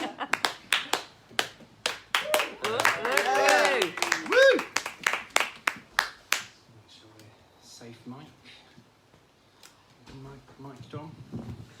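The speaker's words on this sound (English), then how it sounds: "So please give a round of applause to the amazing city poet," Audience at a spoken word evening claps for a city poet, a few loud close hand claps fading after about six seconds into quiet shuffling and faint voices.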